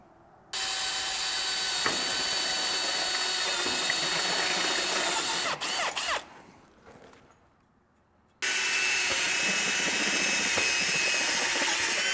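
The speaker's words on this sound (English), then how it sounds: "then drill our holes and bolt this rack up" Loud whine of a power drill boring holes into steel welding table legs, running steadily in two long bursts with a short quieter pause between.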